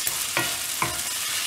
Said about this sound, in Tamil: இப்போ இந்த வெங்காயம் வந்து நல்லா வதக்கி விடணும்